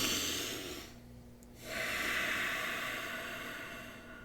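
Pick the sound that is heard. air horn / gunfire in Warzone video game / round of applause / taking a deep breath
taking a deep breath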